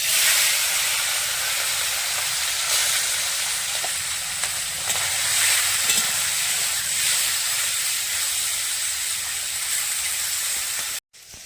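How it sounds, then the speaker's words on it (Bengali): Fish frying in mustard oil in a wok, a steady loud hiss and sizzle running throughout with no talk, cutting off abruptly near the end. "মাছগুলো ভেজে নেব। কড়াতে সরষের তেল দিয়ে দিচ্ছি। এবারে মাছগুলো দিয়ে দিচ্ছি।"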